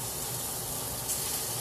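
Chicken fries and sizzles in an oiled pan for a stir fry, a dense, steady crackling hiss close up with no talking.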